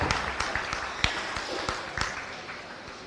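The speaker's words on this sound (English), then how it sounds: "Let's give them a big round of applause" Audience at a 2025 Montgomery County Fair goat show claps for kids in the ring: a thin, scattered applause with a few sharp, distinct claps standing out over a soft hall background.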